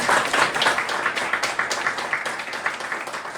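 An audience at a theatre foundation's stage presentation breaks into dense, steady applause for the team, loud and close, with many hands clapping continuously and no talk over it.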